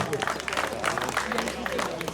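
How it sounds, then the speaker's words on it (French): Applause for the new race leader at a Tour du Tarn U17 cadet cycling stage finish in Valdériès, with a crowd clapping and chattering steadily throughout, mixed with loud background voices. "Donc on peut l'applaudir."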